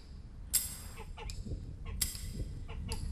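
A flock of sacred geese at an ancient Roman temple setting gives off irregular, sharp cackles and honks, several overlapping calls at moderate distance over a steady background noise.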